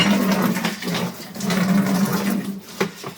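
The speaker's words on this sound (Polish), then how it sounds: "Proszę, to już woda leci." Water gushes and splashes steadily from a hose at close range while cooling wort, a continuous rushing flow with a low hum underneath.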